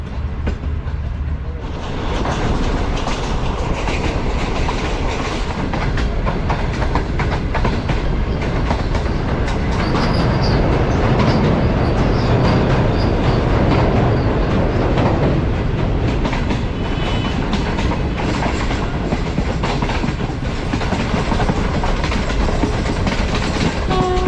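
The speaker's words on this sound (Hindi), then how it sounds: "ये तकरीबन 4 मिनट खड़ी हुई है ट्रेन चकलाला स्टेशन पे, और अभी हम आगे बढ़ रहे हैं रावलपिंडी स्टेशन की तरफ।" Green Line economy train running from Chaklala toward Rawalpindi, a steady loud rumble with rail clatter heard from inside the carriage throughout, with faint higher squeals.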